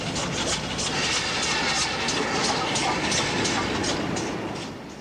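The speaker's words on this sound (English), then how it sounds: "The departure of a modified Hall, 6996, allows us a comparison with the original Collet variety." A modified Hall class steam locomotive, number 6996, departs with loud, rhythmic exhaust chuffs pulsing steadily over a dense rolling rumble that tapers off at the end.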